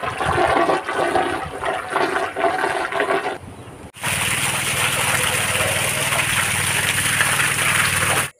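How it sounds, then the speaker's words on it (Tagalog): Water rushes and gurgles steadily as it drains through the central outlet of a concrete tilapia pond, with a mechanical hum in the background and some talk at the start. "I-try natin yung drainage natin kung gaano ka-efficient."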